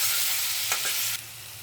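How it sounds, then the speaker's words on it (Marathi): Garlic and green chillies sauté in a hot pan as a thecha-style tempering for Mumbai-style batata vada filling. A steady, close sizzle runs throughout, with a couple of brief stirring scrapes in the middle. "हे सगळं चांगलं 2 मिनिटं परतून घेऊया, म्हणजे लसूण आणि मिरचीचा कच्चेपणा निघून जाईल"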